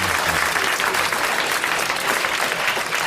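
Studio audience applauding on a 1982 French radio comedy panel show, a dense, steady wash of many hands clapping that holds at full strength for about three seconds.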